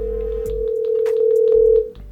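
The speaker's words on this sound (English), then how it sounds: "let's make a phone call. Let's check out the speakerphone real quick." A phone call's ringback tone plays through a small portable speaker on speakerphone, a steady close tone holding for nearly two seconds before cutting off, with faint clicks underneath.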